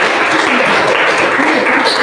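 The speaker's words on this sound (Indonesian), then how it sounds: "Kita berikan aplaus sekali lagi untuk kelompok 2." A classroom audience gives applause for a student group after their physics presentation on Hooke's law, a steady, dense wash of clapping that holds at an even level throughout.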